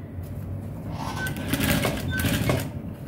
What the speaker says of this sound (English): so just take your band like this, then start sewing